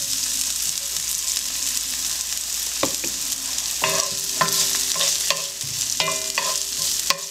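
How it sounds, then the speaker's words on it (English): Half a cup of red and white onions sauté in grapeseed oil, a steady close sizzle punctuated by repeated metallic clinks and scrapes from stirring. "We're going to saute a half a cup of the red and white onions."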